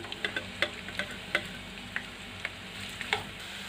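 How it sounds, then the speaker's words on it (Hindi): Onions fry in half a cup of hot oil in a kadai with a faint, steady sizzle and scattered light ticking spatters and stirring clicks at a quiet, close-up level. "तेल गरम होते ही इसमें ये प्याज डालकर फ्राई कर लेनी है"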